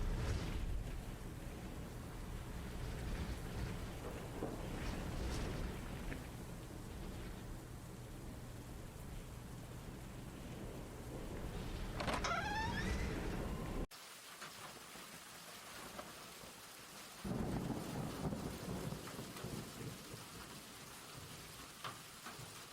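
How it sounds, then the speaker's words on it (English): Heavy rain from a thunderstorm in the video game Wardwell House, a steady dense hiss that pauses briefly and then returns, with no voices over it. "the rain is getting heavier by the minute"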